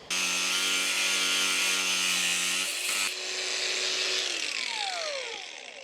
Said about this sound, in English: I need an angle grinder.